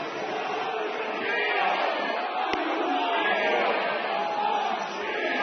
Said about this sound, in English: This is the most animated this crowd has been today.